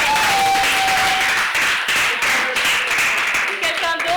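Audience at a gathering on disability applauding a speaker, steady close clapping filling the room with voices talking over it.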